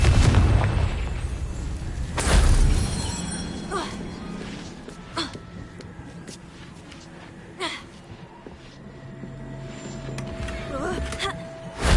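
A Confringo fire-spell blast in the Hogwarts Legacy video game bursts loudly near the start, followed by quieter in-game clatter and smaller pops, with some voice-like babble in the mix.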